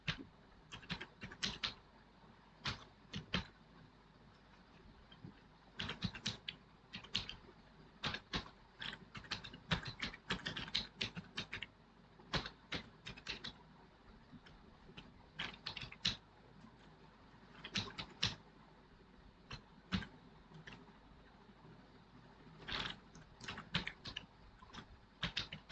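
Someone types C++ code on a computer keyboard in uneven bursts of fairly faint keystroke clicks with short pauses between runs, steady for about 25 seconds and free of speech.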